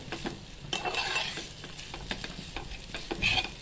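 Spice tempering for katachi amti sizzles in hot oil, onion-garlic masala added, with soft spoon stirring and occasional utensil clinks, low and steady throughout.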